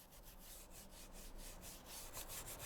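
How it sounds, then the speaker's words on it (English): A soft brass-bristle brush scrubbing an Alcantara-covered car steering wheel, giving a quiet, continuous rhythmic rub with faint back-and-forth swishes up close. "I'm going to take the soft brass bristle brush, and you're going to pretty much go like this"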